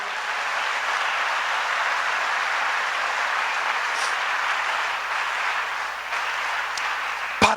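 A church congregation applauding, a steady, unbroken wash of clapping that holds for several seconds, moderately loud and filling the room.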